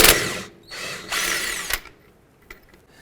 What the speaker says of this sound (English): Next, we're going to use our 18mm socket and remove this bolt.